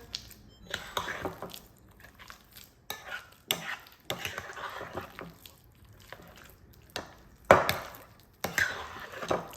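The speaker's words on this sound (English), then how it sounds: "Mix it all together." Cream cheese and crab dip ingredients being mixed in a bowl, with soft irregular scraping and squishing strokes of a utensil and a few sharper clinks against the bowl, close and moderately quiet.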